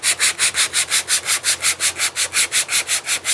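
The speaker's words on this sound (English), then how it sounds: "I can also use the sandpaper technique where you just get a piece and you just kind of work it" Sandpaper worked by hand along a wooden electric guitar neck, making close, loud rasping strokes in a steady back-and-forth rhythm, about five per second, with no voices.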